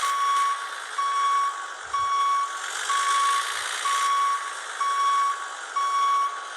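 A steady electronic reversing beep repeats at an even pace over a Volvo F Series truck engine's hum in a cargo transport simulator game, sounding like the truck backing up.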